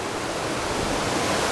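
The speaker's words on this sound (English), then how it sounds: "There's some really beautiful waterfalls right up ahead, coming down off the spillway of Lake Anza." Waterfalls pour off the Lake Anza spillway in the Wildcat Creek gorge, a dense, steady roar of rushing water, loud and unbroken.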